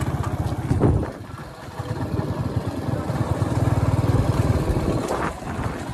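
A motorbike climbs a hill road uphill, its engine droning steadily and loudly close by, rising in intensity toward the end with a brief revving surge near the start.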